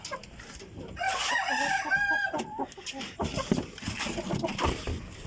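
Rhode Island chickens cluck and a rooster crows, the harmonic crow rising mid-way, close and fairly loud over continuous farmyard clucking and murmuring fowl.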